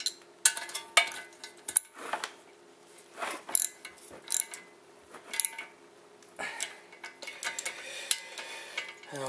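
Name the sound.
tool pulling a wheel bearing back into place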